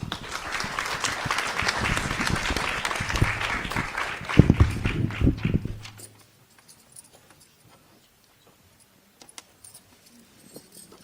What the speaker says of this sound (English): let's welcome our sisters with a big cheer